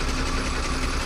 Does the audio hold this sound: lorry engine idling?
yes